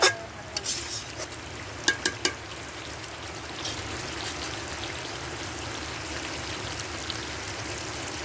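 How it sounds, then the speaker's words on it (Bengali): Raw potato pieces fry together with chicken in a pan for a light chicken-and-potato curry, giving a soft, steady sizzle with a few sharp clicks and spatters early on. "দেখেন আপনারা আমি কীভাবে একসাথে ভাজছি।"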